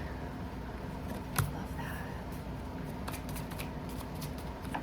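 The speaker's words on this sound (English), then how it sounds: "I'm going to go ahead and shuffle these and lay them out" Tarot cards are shuffled steadily with a soft, continuous riffling rustle, and a few sharper flicks over a constant background hum.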